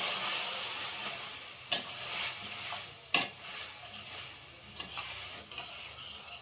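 Ridge gourd bharta stirred in a pan, a soft steady sizzle broken by a few sharp spatula scrapes and knocks against the metal, close and without voices.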